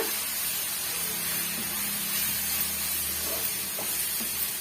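Chili powder and curry spice powder sauté in a pan with a continuous soft hiss and sizzle, steady and close, with no talking.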